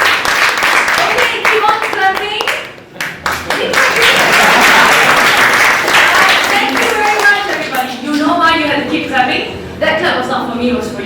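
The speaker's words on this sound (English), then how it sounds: "That clap was not for me, it was for you." A summit audience applauds steadily and loudly, with dense clapping throughout and a few cheers or voices mixed in.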